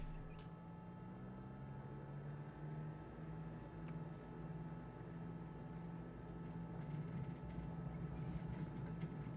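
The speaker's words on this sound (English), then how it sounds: "I got the engine noise turned all the way down" A light aircraft engine idling at low RPM in Microsoft Flight Simulator 2020, with the engine volume turned far down, a steady low hum and drone that holds evenly throughout, with a faint click near the start.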